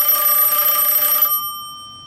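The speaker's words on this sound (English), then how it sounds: "Number seven, M1A internal ringer." Western Electric Bell System M1A internal telephone ringer from a 1A2 key system PBX display, ringing loud and steady with a rapid bell trill for over a second, then cutting off and ringing down into silence.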